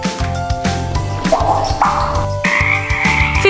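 Frogs croak in a steady chorus, rhythmic low pulses repeating about twice a second with a higher trilling call layered over them, loud and close, with no talking.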